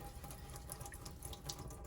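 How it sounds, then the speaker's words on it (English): A classroom sink tap runs at low pressure to rinse a giant paintbrush, a steady close splashing stream with no talk. "Just turn on the water just a little bit."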